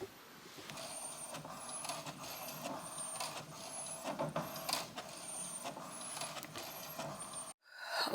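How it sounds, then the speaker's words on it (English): A home printer runs through printing a picture, giving a steady mechanical whir with repeated rhythmic clicks and short high whines, fairly close and continuous, with a brief stop near the end. "Why is my printer making that noise?"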